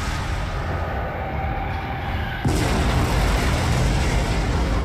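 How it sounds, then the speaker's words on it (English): A Star Destroyer blows up in the Star Wars game The Force Unleashed II, with a dense, loud rumbling roar that surges abruptly halfway through and holds heavy and sustained. "Starkiller is pissed off enough to fire the cannon himself and blow up the Star Destroyer"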